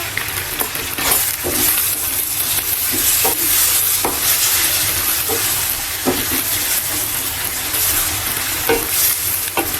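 Steady sizzling of garlic frying in hot oil for chicken karahi, with occasional clinks and scrapes of a spoon stirring in a pan.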